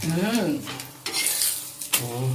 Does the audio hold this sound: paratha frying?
yes